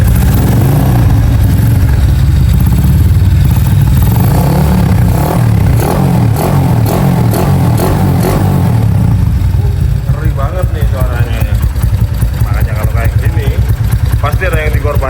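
A modified Honda GL100 motorcycle engine starts on the electric starter and revs, its loud mid-pitched rumble running steady and close throughout, with a voice talking over it.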